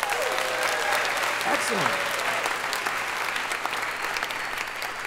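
A live radio show audience in Monterey Park applauds loudly and steadily throughout, with a brief spoken word and some whoops mixed into the clapping.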